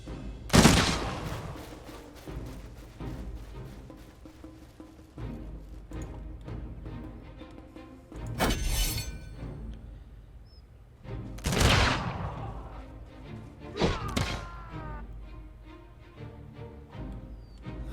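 Gunfire from units in the strategy game Humankind, with several loud bursts of volleys and booms separated by quieter stretches and a lingering low background rumble, no voices.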